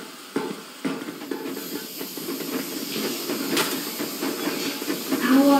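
Steam hisses loudly and steadily as a steam train engine starts in the video game Metro Exodus, with rumbling mechanical knocks and clanks building underneath.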